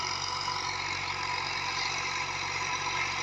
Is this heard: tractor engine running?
yes